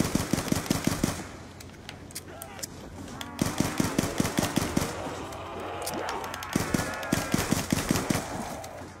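Rapid bursts of automatic gunfire in a zombies survival video game, firing in short rhythmic volleys separated by brief pauses, loud and up front, with faint game effects between bursts.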